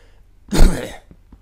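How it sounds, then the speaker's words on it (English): A single harsh cough or throat clear bursts out close to the microphone, lasting about half a second, with near silence on either side. "Excuse me, I just coughed there."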